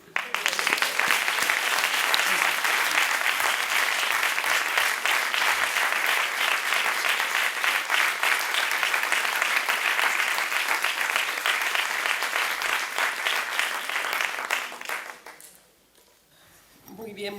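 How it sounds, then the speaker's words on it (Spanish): A lecture audience in Santa Coloma de Gramenet breaks into long, sustained applause, dense loud clapping that carries on for many seconds before tapering off sharply into near silence. "Vamos a dedicarle este aplauso a la vida y la libertad de las mujeres y las niñas."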